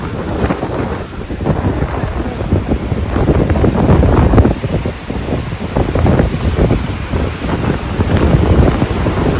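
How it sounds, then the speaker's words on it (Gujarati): Loud, continuous roar of the flooded Sabarmati River rushing, broadband and steady throughout, with gusty rumble like wind buffeting the microphone. "સાબરમતીમાં ફૂલ પાણી આવી છે"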